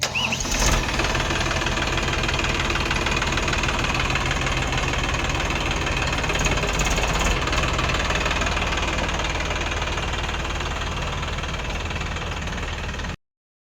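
A newly bought tractor's engine runs at idle, giving a loud, close, continuous rumble with a steady knocking beat. No one talks over it.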